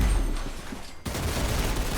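Video game gunfire in a dense, continuous rattling burst, cut briefly by a sharp break before the rapid shots resume at full loudness.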